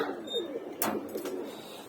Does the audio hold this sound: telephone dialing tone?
no